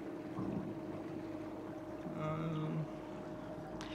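A boat cruising on Lake Hallstatt in Austria produces a steady, low droning hum with a faint tonal whine, and wind rushes against the microphone throughout.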